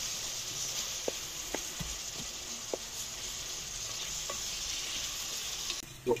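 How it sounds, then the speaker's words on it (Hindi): Chicken with spices sizzling in a frying pan during village cooking, with a steady frying hiss and a few sharp scrapes and taps of a spoon stirring, ending in a louder knock. "मिक्स करेंगे अच्छी तरह से"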